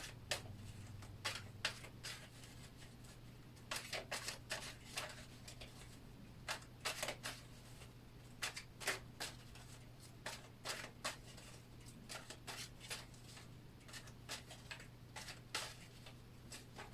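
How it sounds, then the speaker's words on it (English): Tarot cards are shuffled by hand in quiet bursts of crisp riffling and tapping, irregular clusters of soft snaps over a low steady hum. "And I need to shuffle them a little bit"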